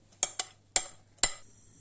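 A utensil clinks sharply against a pot of cream being stirred over medium heat, four times in an uneven rhythm, close by, over a faint low hum.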